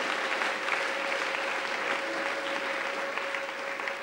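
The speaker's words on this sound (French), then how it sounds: "J'aimerais qu'on l'acclame." A church congregation applauds steadily, with dense clapping from a crowd inside the hall throughout and no single voice rising above it.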